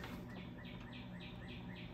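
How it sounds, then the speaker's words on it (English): Faint birds chirp outside a workshop set in a forest, a series of short repeated tweets at a steady rhythm, distant and quiet over a low background hum, with no talk. "You hear my birds?"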